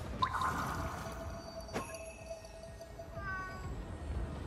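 A cat meows in the video game Ghostwire: Tokyo, one faint, short meow and then a second softer one over quiet ambient background, sounding a bit grumpy.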